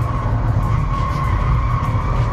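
Tires of a 2019 Kia Stinger squeal and skid continuously on a race track over a loud, roaring engine, with a steady high-pitched screech sustained the whole time.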